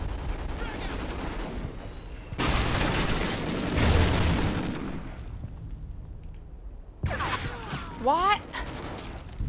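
Grenade blast in the video game Warhawk, a dense burst of explosive noise running for a couple of seconds amid ongoing gunfire and game ambience, with players talking over it.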